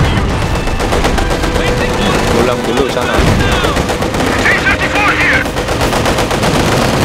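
Rapid machine gun bursts rattle almost without pause in a Company of Heroes battle, with gunfire and explosions crowding the mix while someone speaks briefly over it.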